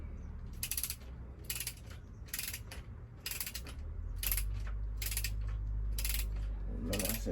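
A ratchet wrench tightens engine head bolts, giving about eight sharp, close clicking bursts in a steady back-and-forth rhythm, with a low mechanical hum building beneath the later strokes.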